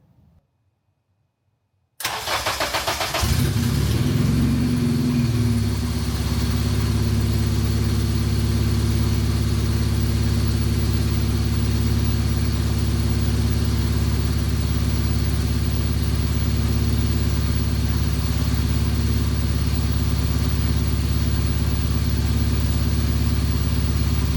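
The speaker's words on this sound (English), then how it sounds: "It starts great, it idles great. Right now it is open header." A Honda K24 engine swapped into a right-hand-drive DC2 Integra Type-R cranks and fires after a moment of near silence, then settles into a loud, steady idle through an open header with no exhaust piping.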